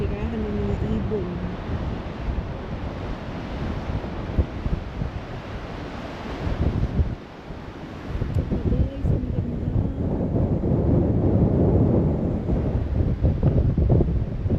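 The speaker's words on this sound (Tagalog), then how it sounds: "Kaya lang ang lakas ng alon." Strong surf rolls in at Paraparaumo Beach, New Zealand, a constant roar of breaking waves under heavy wind buffeting the microphone, with a person talking briefly at the start and again faintly later.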